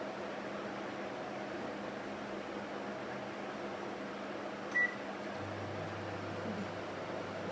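An oven set to 200 degrees for baking sandesh runs with a steady low hum and airy whir, a single short electronic beep sounding partway through, and a lower tone joining near the end.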